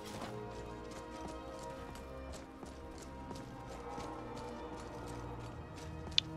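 Horse hooves in the video game Skyrim, a quiet, steady clip-clop of a horse at a walking pace with regular beats throughout and no voices.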